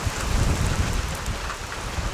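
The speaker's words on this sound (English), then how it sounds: "Looks like it's gonna be heavy rain right now" Heavy rain pouring down outdoors during a bird-feeding project, a dense, continuous roar of drops with gusty wind buffeting the microphone, loud and unbroken with no voices.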